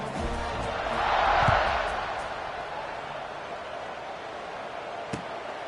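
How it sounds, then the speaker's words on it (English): Crowd noise in a football stadium during a Kansas State versus LSU game, buzzing after a score: a broad, steady roar that swells briefly and then settles into a sustained murmur, moderately loud and continuous. "this crowd is buzzing after that last score"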